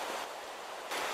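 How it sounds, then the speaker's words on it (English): The Russian River in Alaska flows along a wildflower-lined bank, giving a steady, faint, hissing rush of water with no voices. "You can probably hear the river in the background."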